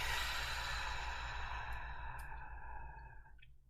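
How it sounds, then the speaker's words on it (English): A long, deep exhale out of the belly during a guided breathing exercise, a steady breathy rush that slowly fades over several seconds, close and alone without talk. "exhale out of the belly"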